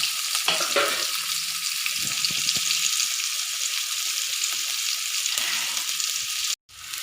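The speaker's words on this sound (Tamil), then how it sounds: "பூண்டு போட்டு நல்லா வதங்கணும்." Garlic and onion sauté steadily in a hot pan, a constant bright crackle with occasional soft stirring clinks, close and uninterrupted.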